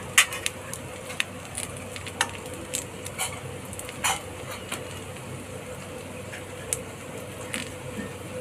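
Food fries in ghee in a kadhai, a soft continuous sizzle broken by scattered sharp pops and light clicks of a utensil, fairly close, with no talking.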